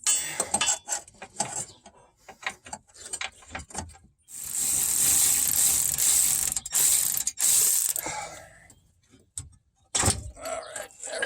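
A ratchet loosens the big bolts on a rusty 2004 Toyota Sienna AWD steering rack, with rapid clicking bursts, a long continuous ratcheting run in the middle and more quick clicks near the end, loud and close.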